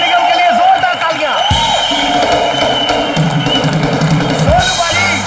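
A studio audience on the comedy show Comedy Nights With Kapil cheers, whoops and claps for a singer, a loud crowd roar that stays close and steady, with a host's voice heard over it.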